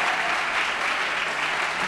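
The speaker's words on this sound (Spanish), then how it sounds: "Un aplauso para el candidato, por favor, muchachos." Audience applause for political candidate Sergio Fajardo at a university talk, a dense, steady wash of many hands clapping at once, loud and unbroken for the full stretch with no gaps.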